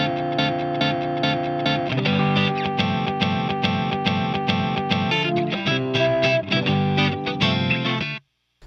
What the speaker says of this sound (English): Let's do the hold effect.